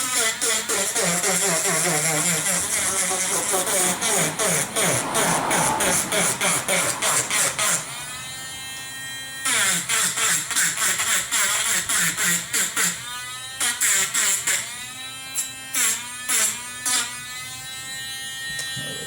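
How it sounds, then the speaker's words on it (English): A cheap Dremel-style rotary tool reams out a hole for an LED conversion, a loud, close, buzzing whine that stutters and changes pitch as it bites, cutting in and out in short bursts. "I already know that that's not gonna be big enough hole that I'll have to ream out, so I'll take my ghetto Dremel here."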